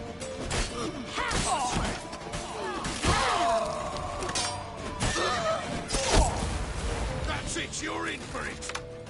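A horse whinnies and snorts in The Witcher 3 amid chaotic thuds, crashes and shouting voices, the neighs rising and falling over a busy, loud scene.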